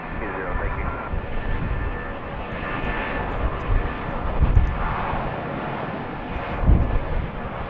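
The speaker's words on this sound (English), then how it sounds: "there goes the A319 for United" A United Airbus A319 takes off at BWI, its engines roaring in a broad, swelling rumble at mid distance, with radio chatter and talk heard over it.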